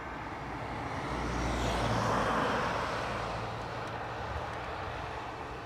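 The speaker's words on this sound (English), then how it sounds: "We have Aer Lingus from Heathrow next to land." An Aer Lingus airliner arriving from Heathrow lands at Dublin Airport, a distant engine roar that swells to a broad peak and then slowly eases away.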